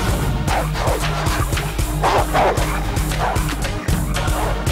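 Several dogs bark repeatedly and loudly in a film scene, sharp yips and woofs overlapping in a busy, uneven rhythm against a low steady hum.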